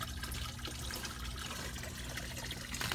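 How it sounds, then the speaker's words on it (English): Water flows steadily outdoors in freezing air, a faint continuous trickling and splashing with no talk over it. "Looks like there's water flowing on that side."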